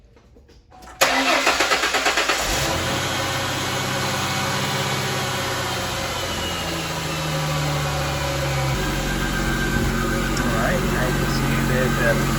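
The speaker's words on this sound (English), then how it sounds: "I'm gonna go ahead and start up the car" A Mustang's engine cranks and catches, then settles into a steady idle, close by, with the air conditioning set to max cool.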